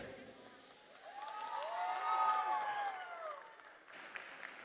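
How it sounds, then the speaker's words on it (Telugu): Applause for a live performance, steady clapping from an audience swelling to a peak midway, then easing off with a few sharper claps near the end. "చప్పట్లు కొట్టండి ఇంకోసారి ఇంత అద్భుతమైన పర్ఫార్మెన్స్ కోసం"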